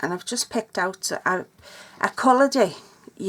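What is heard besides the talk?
No everyday noises stand out.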